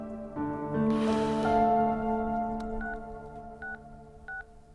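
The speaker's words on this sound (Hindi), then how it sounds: "भाभी को फोन कर" A phone call being placed in a Hindi-dubbed South Indian action film scene: three short, clean dialing beeps near the end follow a swelling musical tone, with no talking.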